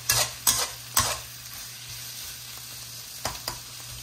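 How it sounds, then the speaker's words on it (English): Spices fry with softened onions in a pan for peanut noodles, a low steady sizzle broken by several sharp scraping stirs near the start and a couple more toward the end. "I want to be sure to cook these spices into there"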